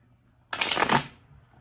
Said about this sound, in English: So we pull some cards